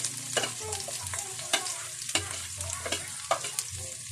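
Garlic and onion sautéing together in a hot pan, a dense close sizzle broken by repeated scraping stirs of a spatula.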